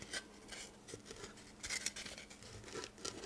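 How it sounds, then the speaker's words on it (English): Floral foam being cut for a silk flower container, quiet close scraping and crunching strokes in an irregular rhythm, faint and without talk. "So the first thing I'm going to do is cut my foam."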